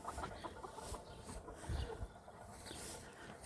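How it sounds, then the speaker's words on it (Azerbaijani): Chickens cluck softly in a busy outdoor yard, scattered calls over steady background noise at moderate distance. "3 dənə toyuq geri qalıb."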